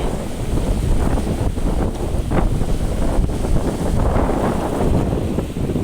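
Strong, steady wind roars and buffets the microphone out on the Nam Theun 2 river, loud and continuous throughout with no voices.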